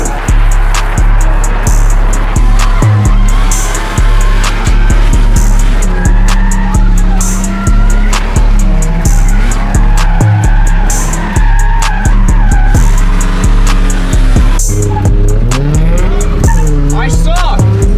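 A drift car on an unfamiliar race track, engine roaring loudly and continuously while tires skid and squeal through slides, with a voice talking over the noise.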